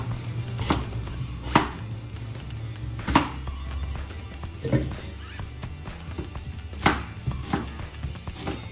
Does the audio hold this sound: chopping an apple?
yes